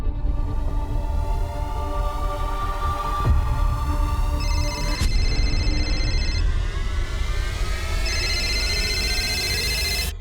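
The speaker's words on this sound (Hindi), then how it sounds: "रिंग तो जा रही है" A phone's electronic ringtone plays in repeated tonal bursts over a steady hum, with a sharp click partway through; no voices.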